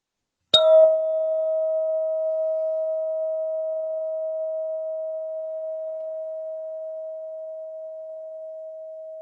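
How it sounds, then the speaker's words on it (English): A mindfulness bell in a middle school classroom is struck once and then rings on, its clear, steady tone fading very slowly over about nine seconds with no voices. "I want you to listen to the bell on purpose."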